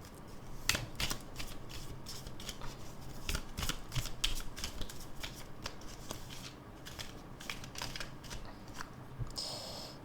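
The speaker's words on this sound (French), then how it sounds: "Je vais prendre le tarot des sorcières." A deck of witches' tarot cards is shuffled by hand, close and steady, with rapid riffling flutters and snapping card edges running almost continuously, ending in a brief softer rustle.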